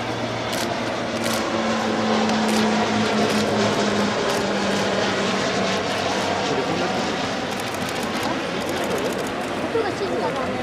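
A T-7 propeller trainer aircraft flies at the Hamamatsu Air Base air show, its steady engine drone filling the scene with shifting tones as it passes, while spectators chat nearby.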